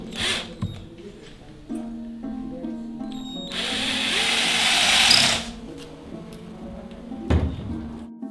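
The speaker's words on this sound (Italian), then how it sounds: "le ha forate con un moderno trapano per ovvie esigenze di tempo" A modern drill bores finger holes in the cane pipes of an aulos replica, with a sustained whirring burst in the middle and scattered clicks and handling knocks around it.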